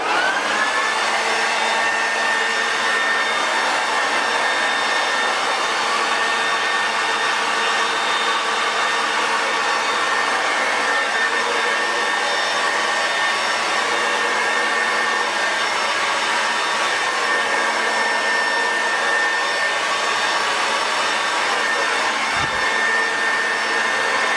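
A handheld hair dryer blows steadily and loudly for the whole stretch while styling a quiff or pompadour undercut, its motor whine constant with only slight shifts as the airflow moves around the head; no talking.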